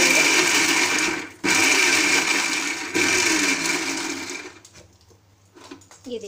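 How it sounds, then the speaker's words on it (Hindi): Blender coarsely grinding chutney ingredients, a loud continuous whir with two brief cutoffs, then winding down into quieter clatter at the end. "और अब हम इनको दरदरा ग्राइंड कर लेंगे।"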